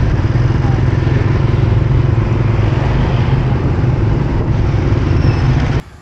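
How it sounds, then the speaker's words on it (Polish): A scooter ridden along a road in the Philippines, its engine drone and wind rumble steady and loud throughout, cutting off abruptly near the end. "już biorę skuter, żeby mu zapłacić"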